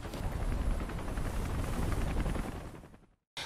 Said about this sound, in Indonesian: Helikopter tersebut mendarat tepat di depan barak dan meminta John untuk ikut bersama mereka terlebih dahulu.